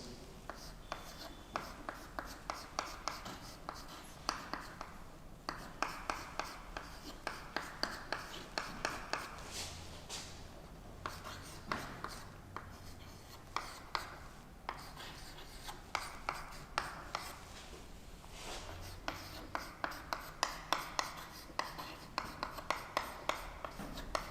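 Examples are handwritten during a lecture on array declarations, the pen or chalk making a long run of quick, rhythmic scratching strokes with short pauses between groups, fairly quiet and close.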